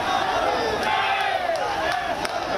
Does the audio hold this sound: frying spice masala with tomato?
no